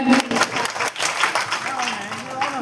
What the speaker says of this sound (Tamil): நம்முடைய எம்பி கலாநிதி ஐயா அவங்களுக்கும் நல்ல ஒரு கைதட்டல் கொடுங்க